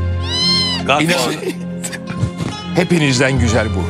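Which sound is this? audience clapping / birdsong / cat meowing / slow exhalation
cat meowing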